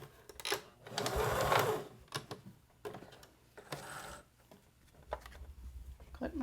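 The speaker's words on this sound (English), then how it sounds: "turn, and go back over that beginning stitches just a little bit" A home sewing machine stitches a hot pad into a divided pouch, its motor whirring in a steady burst and then in a few shorter runs as the stitching backtracks, close and clear.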